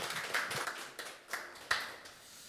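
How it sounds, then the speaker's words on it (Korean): A small audience at an opening talk concert gives sparse, uneven applause: a handful of faint, scattered hand claps at irregular intervals over a couple of seconds. "여러분 뜨겁게 박수"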